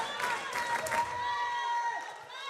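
A volleyball crowd at a women's college match cheers and whoops steadily, a broad sustained roar with whistle-like shouts rising through it, fading slightly toward the end.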